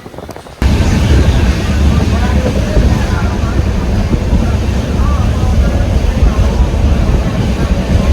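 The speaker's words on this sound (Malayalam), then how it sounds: "പുറത്ത് നല്ല കാറ്റും മഴയും, അടിപൊളി മഴ, നല്ല കാറ്റാ കേട്ടോ" Strong wind roars against the microphone in a constant heavy rush from inside a moving train's general coach, with a rumbling, rain-like noise filling the background.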